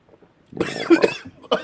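A few sharp coughs close to the mic, a burst of harsh coughing followed by a short pause and another cough.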